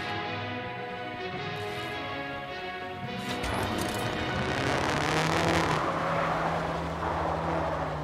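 Engine drone of a vehicle driven in Trailmakers, a steady tonal motor hum that thickens into rough rumbling, crashing and scraping as it moves over terrain, continuous and fairly loud.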